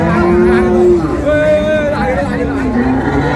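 Cows at a Chittagong cattle market moo in long, loud, drawn-out calls close by, one after another, over a murmur of crowd chatter and people talking.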